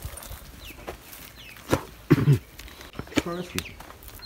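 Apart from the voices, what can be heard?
baby chick chirping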